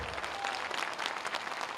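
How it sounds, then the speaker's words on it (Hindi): A crowd at a public inauguration event in Gorakhpur claps steadily in a brief, fairly faint, dense burst of applause. "देखो गड़गड़ा के ताली बजा दे सब लोग।"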